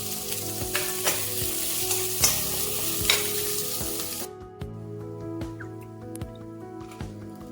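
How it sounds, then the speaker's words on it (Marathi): Onion and garlic fry in oil in a pan with a steady close sizzle and occasional scrapes of stirring, the sizzle dropping quieter partway through. "त्यामध्ये तेल घालायचे आणि कांदा आणि लसूण त्यामध्ये घालून व्यवस्थित छान भाजून घ्यायचे"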